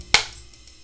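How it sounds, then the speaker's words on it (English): A film slate snaps shut once, a single sharp, close clap that fades quickly into quiet. "and then you will mark it with the Slate."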